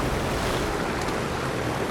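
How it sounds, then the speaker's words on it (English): A Dornier Do J seaplane in Microsoft Flight Simulator 2020 touches down on water, giving a steady, loud rushing wash of spray and surf with wind noise and no voices. "I like the water sound effects."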